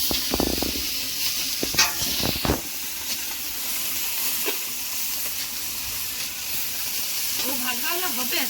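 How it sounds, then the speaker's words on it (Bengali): Puti fish frying in a hot pan, a steady sizzling hiss running throughout with a few brief louder clatters early on and faint voices near the end. "চলছে গরম গরম পুঁটি মাছ ভাজা"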